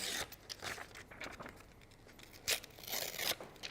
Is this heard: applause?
no